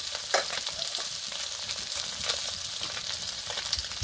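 Gulsha fish frying in a pan, a steady close sizzle with faint crackles and occasional stirring scrapes, no voices.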